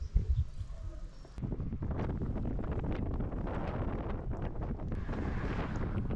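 Steady wind buffets a microphone outdoors in blustery weather during a cycling trip through Slovakia, a continuous broadband roar filling the clip after a quieter opening second.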